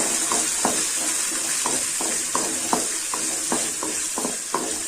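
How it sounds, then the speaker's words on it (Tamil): Shallots and garlic sauté in sesame oil with a steady, close sizzle and regular scraping strokes of a spoon stirring the pan. "வதக்கி விடுங்க"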